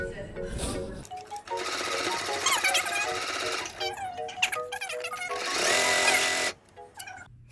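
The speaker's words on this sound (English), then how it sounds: "Guys, here's the sewing machine." A sewing machine runs in fast bursts, its motor whirring and stitching with brief pauses between, steady and close, with a bit of faint voice in places.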